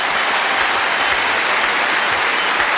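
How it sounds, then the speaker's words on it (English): A studio audience applauds on a football television panel show, giving loud, close, continuous clapping throughout the short stretch with nothing else heard over it. "ladies and gentlemen, can you give everyone involved in the Dulux Grand Final Review a round of applause?"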